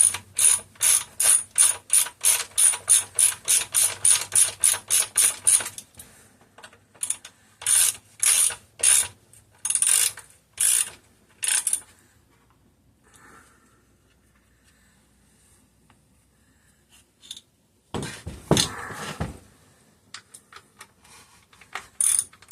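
A ratchet wrench clicks in fast, steady bursts while snugging bolts on a Homelite 330 chainsaw, then gives shorter, spaced strokes, a long pause and one final burst.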